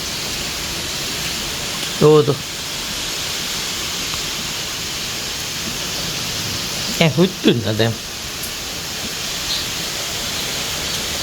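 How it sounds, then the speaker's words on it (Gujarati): Steady heavy rain roars as a broad, constant wash of noise, with a few brief bursts of talking breaking through. "ચોમાસામાં લીંગા આવા જ પહેરવાનો હોય કાલનો એવો ને એવો વરસાદ વરસાય"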